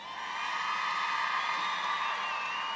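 At an outdoor Trump campaign rally in Prescott, Arizona, a large crowd keeps up a sustained cheer with high whoops and shouts, swelling and holding as a broad wash of voices.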